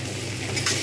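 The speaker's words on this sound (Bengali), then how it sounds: "এগুলো আমি এবারে দিয়ে দেবো। এগুলো একসঙ্গেই ভাজা হবে।" Onion, potato and ridge gourd frying together in a pan, a brief, steady low sizzle with a little stirring and a brighter burst of crackle near the end, no voices.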